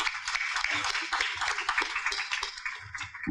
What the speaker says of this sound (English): Round of applause for Sherry Runner, please.